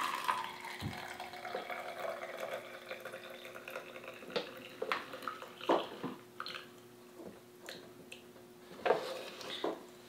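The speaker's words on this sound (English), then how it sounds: "Now we're gonna dispense our water." Water is poured over ground coffee in a camp bottle coffee maker, a soft continuous trickle and splash close by, with faint clinks and drips scattered throughout.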